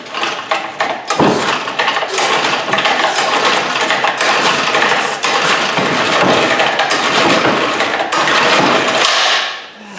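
A lawnmower engine on a drift trike is cranked over and over without catching, a loud rough mechanical churning with rattling pull-start strokes that stops abruptly near the end.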